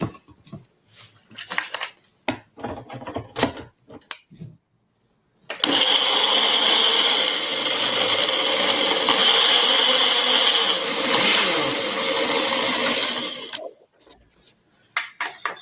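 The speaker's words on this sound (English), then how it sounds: "Then we're going to blend it" A blender whirs steadily for about eight seconds, blending a drink of coconut water and agave, with a loud, even motor drone that starts abruptly and stops; scattered kitchen clatter before and after.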